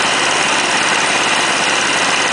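A gasoline engine converted to diesel runs at a steady idle at high elevation, a loud, even mechanical drone with a constant vibrating rumble and no voices.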